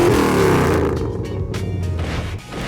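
A hot rod's engine fires up at a street rodding cruise event in Coffeyville, Kansas, giving a loud, close, steady rumbling run with a slight dip in level near the end.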